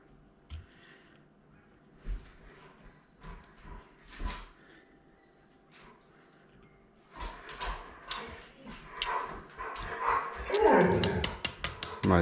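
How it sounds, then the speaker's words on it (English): A dog barks, yips and whimpers in short, uneven bursts, starting sparse and building into rapid, excited barking toward the end, reacting to another dog nearby. "My dog can hear another dog and wants to have a crack"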